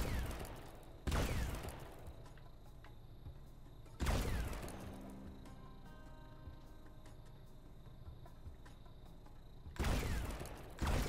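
Three loud bursts of gunfire from Supraland, each a sharp crack that decays into echoing, mechanical ringing. Quieter gaps fall between the bursts.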